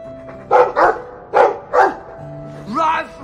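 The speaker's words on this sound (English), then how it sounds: "I like the doggy." A dog in the Dragon Age 2 video game barks in four quick, close, loud woofs, then gives a softer yip after a short pause, with faint tonal background music underneath.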